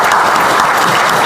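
A congregation applauds at a religious celebration ceremony. The clapping is loud, close and continuous, with dense hand claps blending into a steady roar and no voices standing out.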